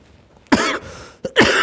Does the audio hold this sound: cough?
yes